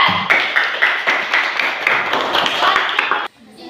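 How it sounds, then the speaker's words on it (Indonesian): Classroom applause for student group 3 during a teaching performance, a run of sharp claps with a steady beat that stops abruptly near the end and gives way to near silence. "beri tepuk tangan untuk kelompok 3"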